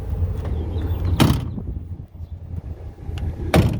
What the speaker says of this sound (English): Bedliner power sliding back window